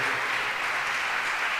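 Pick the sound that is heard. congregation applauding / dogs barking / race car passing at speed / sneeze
congregation applauding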